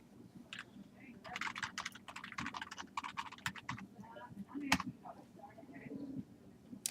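Quick bursts of keyboard typing in uneven runs, fairly close, with a few louder key taps and a soft voice murmuring in the background.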